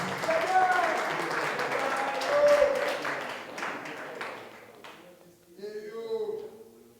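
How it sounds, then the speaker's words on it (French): Applause from the audience at a press conference held by a collective, clapping rising and fading under a speaker's voice, with a brief lull before another burst of clapping and talk. "Sous vos acclamations."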